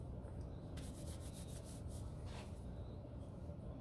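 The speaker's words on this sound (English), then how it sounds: "We sanitize our hands." Hands rubbed together with hand sanitizer at a cosmetology station during a hair removal procedure, a soft, close, steady rubbing and swishing that carries on for a few seconds with no talk.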